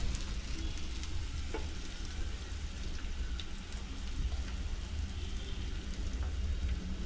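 Malvani masala and oil sizzling and frying steadily in a pan while chana dal bhaji is cooked, with occasional stirring scrapes in a continuous close, even hiss and no talk.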